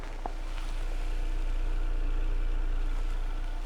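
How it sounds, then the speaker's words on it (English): A Honda Integra Type R on its stock exhaust idles with a steady low drone and faint vibration, close by and unchanging, with no talk. "This one here is the stock exhaust on it."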